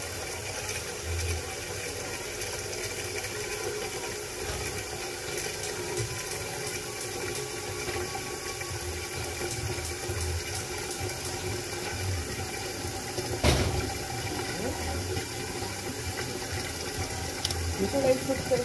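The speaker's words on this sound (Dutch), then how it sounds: "Vullen met heet water" Hot water running from a kitchen tap into a cooking pan, a steady low rushing pour with faint clinks from the pan, fairly close.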